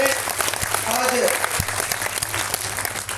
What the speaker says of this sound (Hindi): मोहन नायडू जी का जोरदार ताली बजाकर उनका अभिनंदन करें